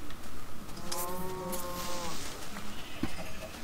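Minecraft cows give a couple of low, drawn-out moos in the game, fairly faint, under background game noise.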